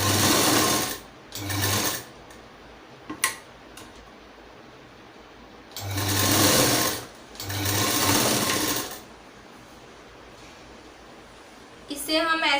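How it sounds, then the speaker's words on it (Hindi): Square fabric pieces for a bow are stitched on a sewing machine in short bursts of steady whirring, with pauses and small clicks between runs. "अब ये बो बनाने के लिए हमने जो स्क्वायर पीस काटे थे उसे हम स्टिच कर लेंगे"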